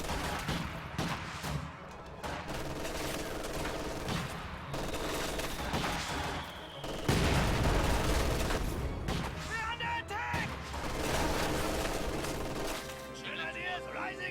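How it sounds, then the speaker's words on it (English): Bursts of MG42 machine gun fire rattle amid other gunfire and explosions in a World War II strategy game battle, dense and loud throughout, with a voice talking over the combat. "MG42 suppresses a couple squads"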